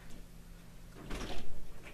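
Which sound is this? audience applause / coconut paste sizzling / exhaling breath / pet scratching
pet scratching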